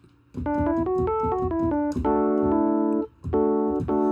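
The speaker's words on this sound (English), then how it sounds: "I added a reverb that makes it wide" Rhodes electric piano playing a short series of chords, with a mellow bell-like tone and a wide, spacious reverb tail between phrases.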